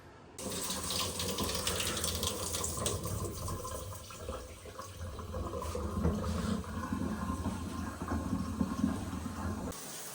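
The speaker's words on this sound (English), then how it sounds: "The water flow in the shower is pretty low." Shower in a newly built house with low water flow, running as a steady broadband hiss of falling water throughout, fairly close and continuous with no voices.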